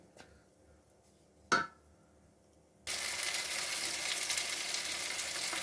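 Masala spices sizzle steadily in a pan for dhokar dalna, the frying starting abruptly after a few faint knocks and a louder clatter, then holding a loud, even hiss with no talk.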